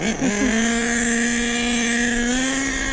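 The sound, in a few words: nitro RC car engine revving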